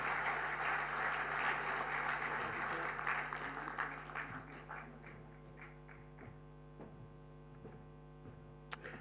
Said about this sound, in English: A warm applause.